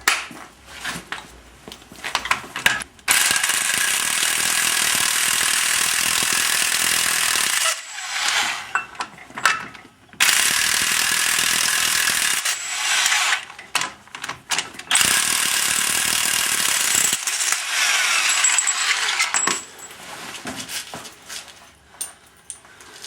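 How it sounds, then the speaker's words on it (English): A ratchet turns a nut onto a Subaru GL axle shaft with long, fast, rattling runs of clicks that pause briefly between strokes. The sound is close and loud, with no talk over it. "I'm going to thread the nut on just enough to draw the axle through"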